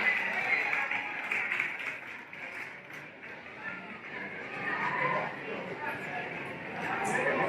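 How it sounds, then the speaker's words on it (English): Crowd applause and cheering for a contestant at a rockabilly festival pinup pageant in Southport, Australia, a dense steady wash of clapping with chatter and voices mixed in throughout. "Let's give Sin a big round of applause"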